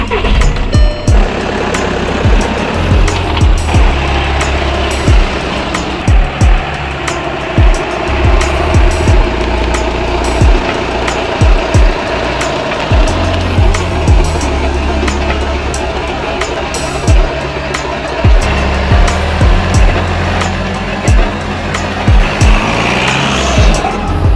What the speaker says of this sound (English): let's pull it out, pull it in and out of the driveway, see how it clears